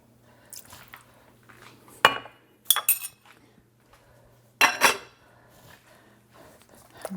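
A utensil stirs dry sherry into a dish with cooked spaghetti in a home kitchen, making a few sharp clinks and scrapes against the bowl, spaced out and fairly close, between quiet pauses.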